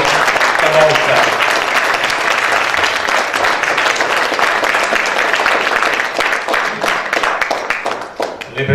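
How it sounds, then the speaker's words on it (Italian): Audience applause at a Sicilian-language poetry book presentation, a dense sustained round of many hands clapping that stays loud for most of the stretch and thins slightly near the end. "Un altro applauso ci vuole, doppio stavolta."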